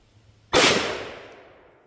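A single loud, close rifle shot fires a .50 Beowulf round from Alexander ammunition, a sharp crack followed by a ringing decay that fades over about a second.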